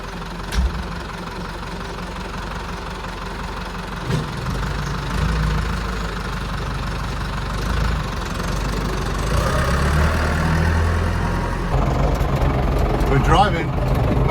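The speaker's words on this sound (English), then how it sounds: "First time with a clutch tractor in it" A vintage clutch tractor engine idles and then pulls away, a steady low rumbling chug running throughout at close range, with faint knocking and a rising note toward the end while people talk over it.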